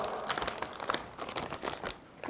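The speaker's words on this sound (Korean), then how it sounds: "비닐 뜯는다" Plastic wrapping on a Sulkkun naengmyeon cold noodle meal kit is torn open and handled, giving close, dense crinkling and rustling in irregular bursts with no speech over it.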